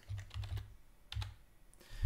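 Keys tapped on a computer keyboard while setting up an X-Plane 12 flight simulator for a Sopwith F1 Camel, a few quick soft clusters of clicks with pauses between, close and quiet with no voice.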